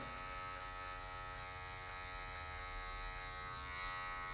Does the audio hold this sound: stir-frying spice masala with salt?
no